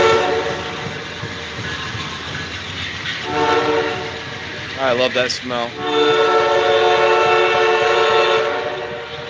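A train horn sounds noticeably higher-pitched than usual, holding a loud, steady, sustained blast over the rumble and clatter of a passing train at night, while a person speaks briefly partway through.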